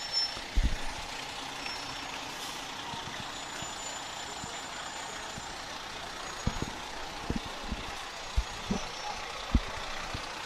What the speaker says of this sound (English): fire trucks are such a big part of a parade